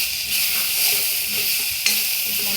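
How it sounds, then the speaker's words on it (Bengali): Dried fish (shutki) for a bottle gourd curry hisses in a hot frying pan, a steady, loud, close sizzle with one brief crackle partway through and no voices. "আমি একটু করে দিচ্ছি শুটকিটা।"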